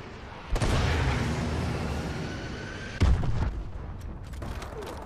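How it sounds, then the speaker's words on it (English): Missile strike explosions in Call of Duty: Advanced Warfare, heard as two heavy booms with a rumbling wash between and after them, the second blast sharper and louder than the first. "Friendly missile strikes incoming."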